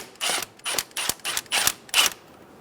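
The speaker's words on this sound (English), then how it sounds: "Using a 10mm socket or a Phillips head screwdriver, loosen the clamp for the intake." A 10mm socket works an intake clamp on a 2011-2014 Hyundai Sonata, giving six quick, sharp ratcheting bursts in an even rhythm, close up and with no voices.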